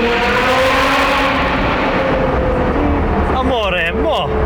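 A Novitec-tuned Ferrari 812 GTS N-Largo's V12 engine drones steadily at high revs, loud and close from inside the car, with a voice talking briefly over it near the end.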